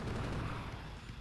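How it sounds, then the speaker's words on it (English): A rocket barrage in the video game Terraria, a dense, continuous rumble of rapid low booms and gunfire-like bursts holding steady and loud throughout the short burst, with no speech. "Rocket barrage!"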